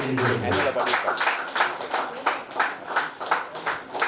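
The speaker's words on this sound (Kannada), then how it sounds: "ಎಲ್ಲರೂ ಕೂಡ ಎಲ್ಲ ಸ್ಪರ್ಧೆಗಳಲ್ಲಿ ಕೈ ಚಪ್ಪಾಳೆ ಗೌರವಿಸಬೇಕಾಗಿ" An audience claps at a wall painting contest for a youth association anniversary, a steady run of hand claps continuing throughout, with a voice audible at the very start.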